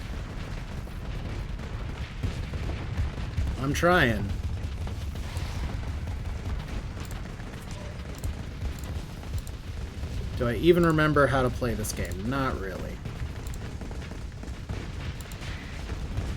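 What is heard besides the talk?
explosions and gunfire in space combat, video game Starsector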